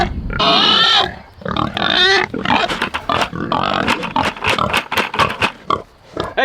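Pigs being moved through a forest on a family farm, a close, loud run of squeals and rapid grunting oinks from several animals, overlapping in an uneven, busy rhythm with no talking.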